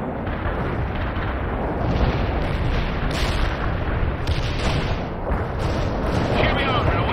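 Artillery barrage in the World in Conflict video game, a heavy continuous rumble of overlapping blasts and booms with a few sharper bursts standing out, loud and steady throughout.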